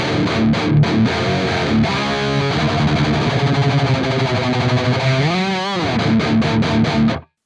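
A heavily distorted electric guitar through the Neural DSP Archetype: Gojira amp simulator plays loud, continuous riffs with a bend and slide partway through, then stops abruptly.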